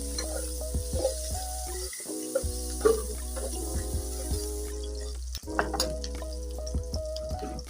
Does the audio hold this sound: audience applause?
no